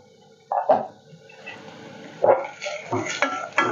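A cooking-pot lid is lifted off a pot of softening onions during vegetable preparation, giving a couple of clear metallic clinks and a scrape, followed by softer handling clatter.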